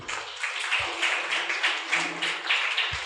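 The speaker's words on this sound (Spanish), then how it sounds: "Denle un aplauso a Dios por eso" Applause from a church congregation, a steady wash of many hands clapping at moderate loudness with a few low thumps, no voices over it.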